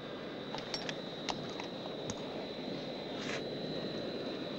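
A fixed-wing airplane's engine drones steadily before takeoff, a constant mid-level roar with a thin high whine running throughout, no voices heard.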